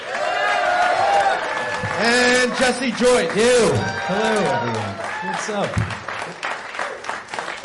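A studio audience applauds two comedians on a radio show in Austin, a steady clapping wash beneath voices greeting the crowd.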